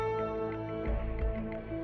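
A single sustained piano note, the A near the middle of the keyboard, rings out steadily and fairly quietly, rich in overtones, with a faint low thump near the middle.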